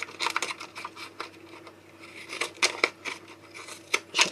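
Scissors snip repeatedly at close range, a quick irregular run of crisp cuts with small rustles between them.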